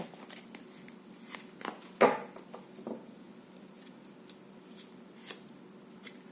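Tarot cards are shuffled and flicked quietly, with soft rustling and one sharper snap near the middle, alone with no talking.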